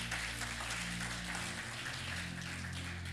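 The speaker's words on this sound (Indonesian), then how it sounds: "Tepuk tangan." A church congregation at a Sunday morning worship service claps, a soft, distant patter of many hands over a low electrical hum.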